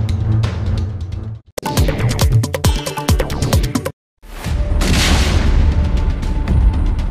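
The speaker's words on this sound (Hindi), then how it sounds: "कुछ ही सेकंड में जोरदार धमाका।" Loud, violent explosion from a Russian strike on a Ukrainian communication tower, with crackling, booming debris noise, a brief drop to silence, then continued heavy rumbling roar.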